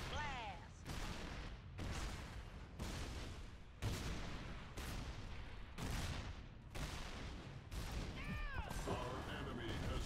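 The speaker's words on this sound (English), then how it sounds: "Fire that cannon, or I'll fire your skull at him instead!" Repeated heavy booming blasts of cannon fire in a game, coming in quick succession with dense crashing noise, while voices talk and shout over the barrage.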